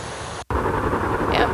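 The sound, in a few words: fan sound played by an app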